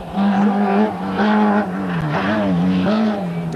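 Rally car engine accelerating hard at the 1997 Rally Isla de Gran Canaria, a loud close buzzing roar rising and dipping through several gear changes across the clip with no talk.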